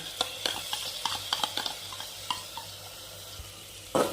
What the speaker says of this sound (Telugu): పెరుగు వేసేసిన తర్వాత బాగా కలపెట్టాలి